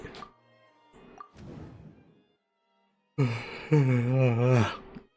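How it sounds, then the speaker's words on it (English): A person yawns: breathy sighing exhalations and soft gasps, then a drawn-out voiced yawn with wavering pitch that rises and falls, close and fairly loud. "Sorry, yawning today."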